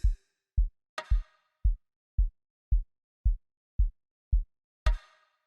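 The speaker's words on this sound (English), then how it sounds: "Let me drop a kick." An amapiano kick drum hits a steady four-step pattern, nine deep thumping beats at an even pace, with two bright crash-like hits layered in, loud and dry with no talking.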